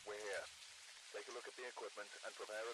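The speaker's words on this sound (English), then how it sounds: "It's raining again." Rain in the Phasmophobia video game, a soft, steady hiss of falling rain in the background, heard under someone talking close up.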